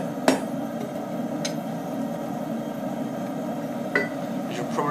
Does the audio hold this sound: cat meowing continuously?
no